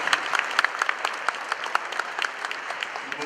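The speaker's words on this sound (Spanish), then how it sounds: "Un aplauso fuerte al Señor." A congregation claps loudly during a Spanish-language Catholic prayer service, sharp uneven claps filling the room for a few seconds.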